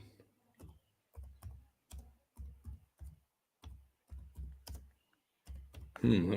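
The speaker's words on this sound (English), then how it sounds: "just typing that in here." Bursts of computer keyboard typing come in short, irregular clusters separated by brief pauses. The keys sound close and fairly quiet, with a louder rustle at the very end.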